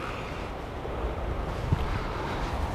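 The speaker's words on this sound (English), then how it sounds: "Blooming windy." Soft, steady wind rumbles against the microphone in a low outdoor hush on a golf course, with a faint bump partway through.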